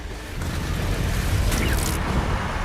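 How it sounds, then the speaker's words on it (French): A cabin is blown up by an explosives expert, a sustained, roaring deep rumble of blast noise that stays loud and dense for a few seconds with no voices. "Ça, c'est de l'explosion."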